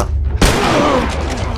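A single loud, close gunshot cracks out in The Last of Us, followed by a ringing tail and a faint whistling echo that fades over about a second.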